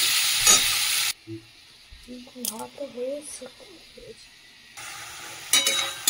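Bengali stalk charchari sizzles in a pan while being stirred, loud at the start and again at the end, with a stretch of a person speaking in between over a faint background.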